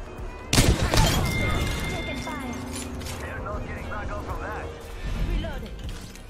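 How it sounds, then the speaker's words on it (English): Gunfire rattles in a battle-royale shooter, a sharp burst of shots close up followed by a continuous crackle of distant fire coming from several directions while players talk over it. "Getting shot at from every direction."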